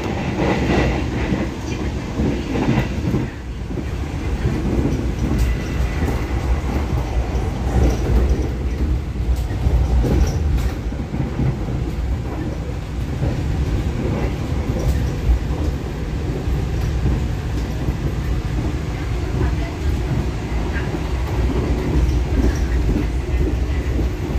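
The Argo Bromo Anggrek express passenger train rumbles steadily along the rails between Surabaya and Jakarta, a continuous loud low roar with faint rhythmic clatter and occasional clicks throughout.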